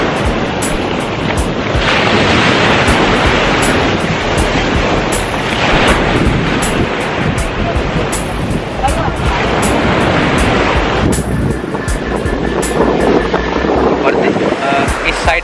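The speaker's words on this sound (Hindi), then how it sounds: "अभी मैं जो है बीच साइड पे वॉक कर रहा हूँ, बिल्कुल वेव्स आ रही हैं यहाँ पर बहुत ज़्यादा" Ocean waves breaking on a beach in Bohol, Philippines, a steady loud roar of surf with repeated swells, heavy wind buffeting the microphone, and someone talking over it while walking along the shore.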